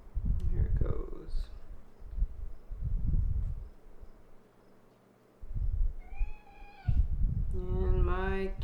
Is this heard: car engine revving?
no